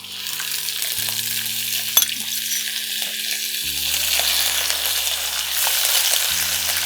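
Prawns fry lightly in a pan for an achari chingri pickle-style dish, giving a steady close sizzle with a low electrical hum underneath and one sharp clink near the two-second mark.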